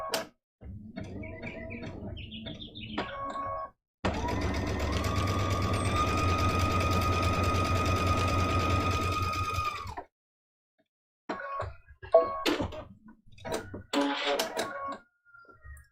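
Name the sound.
sewing machine stitching a fabric seam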